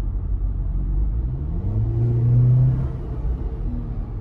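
Cabin of a 2024 Jeep Wrangler Sport with a hard top while driving, a low steady road and engine rumble that rises briefly as the engine revs, then settles, with no talk.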